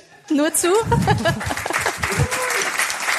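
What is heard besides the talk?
a fan clapping in the studio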